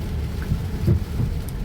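Steady rain falls in a continuous dense hiss with low rumbling beneath and no talk.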